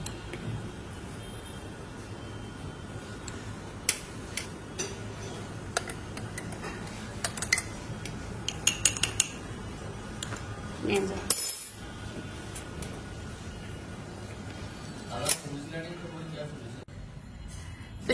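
A spoon adds sugar to a bowl during an afternoon serving of payesh and red tea, giving a few light, sparse clinks under a steady background murmur.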